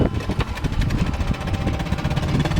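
A small 2 horsepower dinghy outboard motor runs steadily nearby, its continuous buzzing drone holding an even, vibrating rhythm throughout with no pauses.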